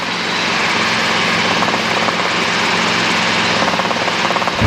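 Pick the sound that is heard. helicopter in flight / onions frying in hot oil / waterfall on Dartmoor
helicopter in flight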